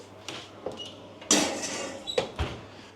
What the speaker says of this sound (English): And that needs to go in the oven mid-shelf at 230.